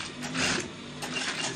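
A sewing machine top stitches a shirt placket, a short close mechanical whir in two brief bursts with a small pause between them, moderately loud with no talking.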